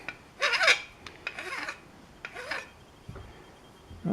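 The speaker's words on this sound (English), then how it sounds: "I'm taking a much finer file and just catching those edges" A fine file rasps over the rough edges of a small aluminum clip in short, close strokes, about five bursts of scraping with brief pauses between.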